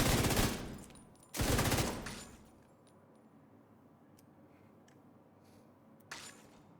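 Video game gunfire while shooting for headshots: two loud sustained bursts of rapid automatic fire, a quieter stretch of faint clicks and ambience, then a final short burst.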